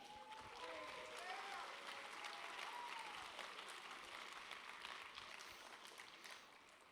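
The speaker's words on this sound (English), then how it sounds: "give him a round of applause" Audience applause at the opening ceremonies of the BLFC 2019 convention, a dense, steady patter of many hands clapping that holds for several seconds and fades slightly at the end.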